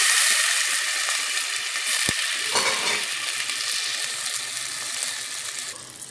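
Water is poured into a pan of frying rice and onions, setting off a loud burst of sizzling and bubbling that hisses steadily and slowly fades, with no talking.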